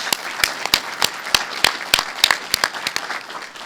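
A small audience applauding at a Columbus, Ohio building-trades event: a few distinct hand claps in an uneven, sparse rhythm, fairly close, brief and without talk.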